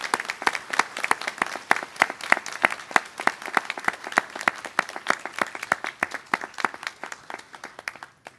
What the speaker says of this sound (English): I invite everyone to give a special round of applause to all our graduates